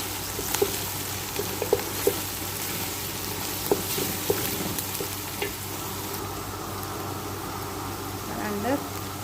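Garlic frying in hot oil for a fish majboos, a steady sizzling hiss with occasional small pops and stirring clicks, while someone talks faintly over it.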